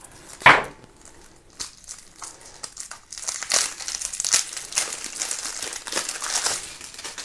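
Plastic-wrapped cards for the board game Glen More II Chronicles being unwrapped, with loud crinkling and tearing of the plastic film in bursts, including a sharp rip near the start, close up and with no talking.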